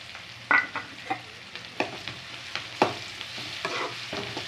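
Garlic sizzling in a pan for karamani kuzhambu, a soft continuous fry punctuated by sharp scraping clicks of a spoon stirring at an irregular rhythm, close and moderately quiet, no voices.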